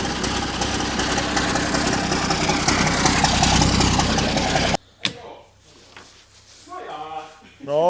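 A vehicle engine runs loudly at idle, then cuts off abruptly; someone speaks afterward.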